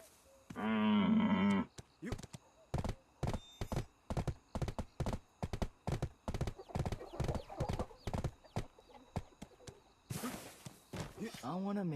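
Horses in the Black Desert Mobile video game clop along in a steady, rhythmic hoof pattern, with a brief whinny-like tone early on and a sharp burst near the end.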